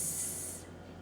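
A voice imitates a snake's hiss, one steady, bright breathy hiss held for about half a second and then cut off, close and alone.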